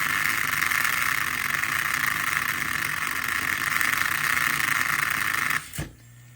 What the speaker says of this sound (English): So we're just going to do a little saw in right over here on this chassis, and just going to spin it up